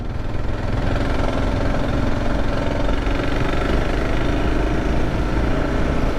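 A 2024 Kawasaki KLR 650 single-cylinder motorcycle riding on a gravel road, its engine droning steadily and close with constant wind and road rumble throughout, no talking.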